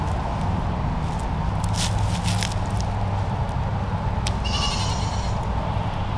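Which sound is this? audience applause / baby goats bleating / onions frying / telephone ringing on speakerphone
baby goats bleating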